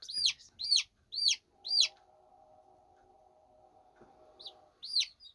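Baby chicks cheeping in a few quick, loud, close peeps at the start and again near the end, with a faint steady hum between them and no talking.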